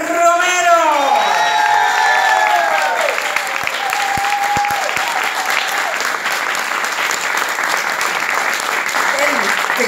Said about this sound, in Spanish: un fuerte aplauso para la diosa, la única, Valeria Romero.